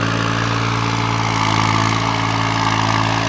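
A New Holland tractor engine idles close by with a steady low diesel throb and an even mechanical hum, unbroken and alone.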